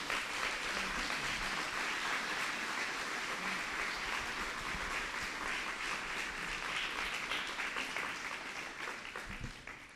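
A church congregation claps wholeheartedly in praise to God, producing a loud, dense and continuous wave of applause that holds steady before tapering slightly at the end.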